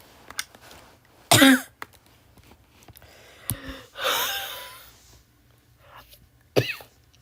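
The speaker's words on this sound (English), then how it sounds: "I coughed so hard." After choking on a drink, a person coughs in several sharp, forceful bursts spread irregularly, with a strained gasping breath between them, loud and close.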